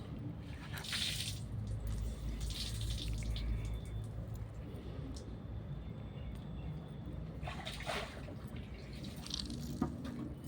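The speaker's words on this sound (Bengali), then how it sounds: "একটা হাত দিয়ে চিপে চিপে পানিটা বার করে দেবো" A hand squeezes water out of salted ash gourd pumpkin with soft wet squelches and drips, close but fairly quiet. The squishing comes in a few bursts with quieter stretches between them, and no one talks.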